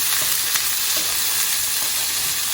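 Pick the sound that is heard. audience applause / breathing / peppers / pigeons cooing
peppers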